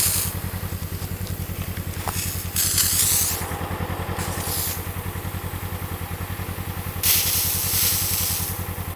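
A spray wand hisses in bursts as weeds and brush around a pond are treated, with a steady motor idling underneath throughout, the spray surging loud at a few points.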